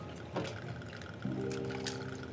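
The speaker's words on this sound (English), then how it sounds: "And do a 6-count pour in your rum." Rum is poured from a bottle into a cocktail glass at a downtown bar, a soft, steady liquid trickle with a faint glassy clink midway, heard close and fairly quiet against background hum.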